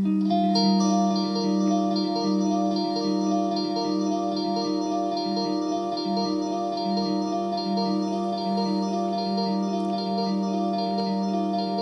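Guitar run through a Line 6 Helix Heliosphere delay with feedback at 100%, building into a sustained, shimmering wall of stacked repeating tones that hangs evenly without decaying.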